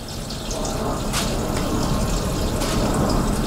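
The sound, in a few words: onion skins being soaked in water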